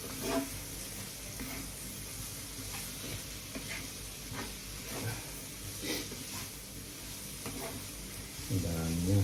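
Onions sizzling as they fry, a steady crackling hiss that continues for the whole stretch with small pops and a slight swell at the end.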